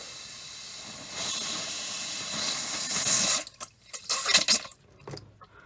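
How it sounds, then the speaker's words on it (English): Pressure released from a whole house water filter: a steady loud hiss of escaping air, then broken sputtering bursts of water and air in irregular spurts, close by. "I'll keep releasing the pressure until I get more water than air"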